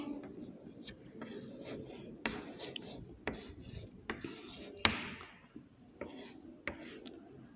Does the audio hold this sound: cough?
no